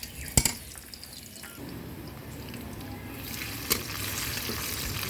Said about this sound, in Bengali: পেঁয়াজগুলো একটু নরম হওয়া পর্যন্ত ভালোভাবে নাড়াচাড়া করতে হবে।